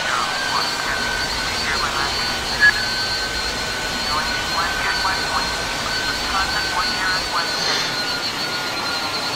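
Airliner jet engines whining steadily while taxiing in Microsoft Flight Simulator X, a continuous loud drone with a faint high tone held throughout, and someone talking over it.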